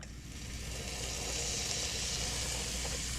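Butter sizzling in a hot pan, a steady bright hiss that swells slightly and holds evenly throughout, close and unaccompanied by talk.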